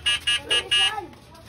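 An e-bike horn gives four short electronic beeps in an even rhythm, loud and close, then a voice speaks briefly afterward.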